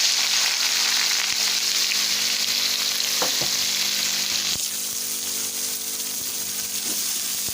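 Thickly sliced onions fry in hot oil with cumin and carom seeds, producing a steady, close sizzle throughout, with a few sharp stirring clicks and scrapes and no voices.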